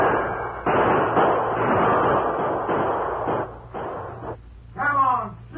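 Gunshots in a Lone Ranger radio drama, a run of loud sharp bursts separated by brief gaps, with a voice breaking in near the end.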